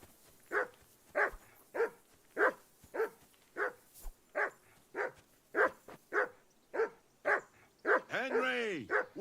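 A dog in a video game barks repeatedly in a steady rhythm, about fourteen evenly spaced close barks, ending with a longer whining yelp, with no talk over it.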